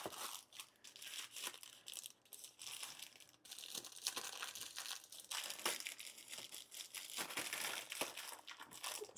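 Plastic and paper packaging being handled and crinkled while a Fanttik V10 Apex and its accessories are unpacked, with steady rustling, crushing and crackling throughout and a few sharper crunches, close and fairly quiet, with no voices.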